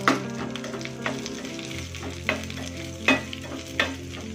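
Crushed garlic and tempering spices sizzle steadily in hot oil in a pan for a Telugu sorrel leaves dal, with a continuous frying hiss and a few sharp stirring clinks, close and fairly loud, with no talking.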